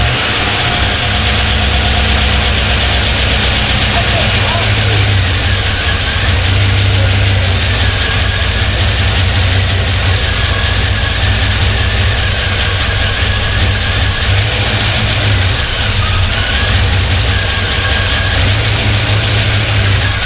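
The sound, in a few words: car engine starting up and idling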